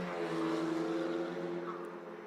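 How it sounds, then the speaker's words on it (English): An autonomous race car engine at CES 2025 drones and revs in a sustained, steady roar at moderate distance, easing off slightly toward the end. "One of the cars just gassed it a little bit."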